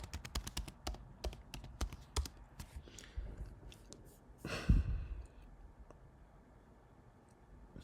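Typing on a computer keyboard, a quick run of sharp close key taps that thins out, followed by a loud audible sigh, then quieter scattered clicks.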